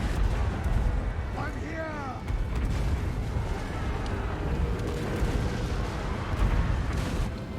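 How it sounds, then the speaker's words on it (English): Mortar rounds fire and land in a strategy video game battle, heavy booming blasts rolling continuously under a dense layer of game noise and effects. "So the mortars here is the only way."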